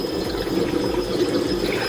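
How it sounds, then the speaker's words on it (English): Water running steadily into a wok from a tap, a continuous close rushing wash that holds level with no pauses throughout. "we're going to fill our wok up with water and turn it on."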